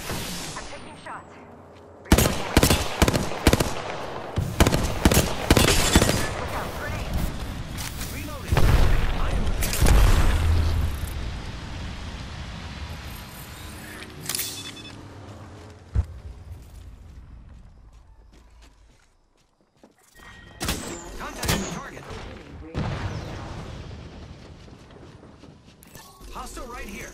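Sharp, repeated gunshots ring out in a first-person shooter match, coming in rapid clusters with booms and mechanical clatter, loud and near, broken by quieter gaps, under occasional in-game voice callouts.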